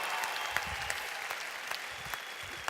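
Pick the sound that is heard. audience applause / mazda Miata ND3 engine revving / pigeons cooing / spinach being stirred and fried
audience applause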